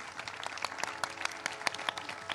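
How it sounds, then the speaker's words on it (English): Audience applause for a panel at a public education discussion event, steady close clapping from a modest crowd with sharp individual claps throughout. "Please give a nice round of applause for our panel"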